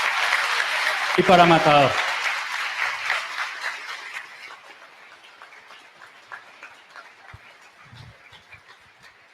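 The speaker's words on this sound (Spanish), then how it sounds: "Un gran aplauso" An audience at a public library cultural event applauds loudly at first, then the clapping thins and fades over several seconds while someone speaks briefly over it.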